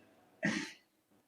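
A single short cough from a man at a religious study gathering, one sharp burst standing alone against a quiet background.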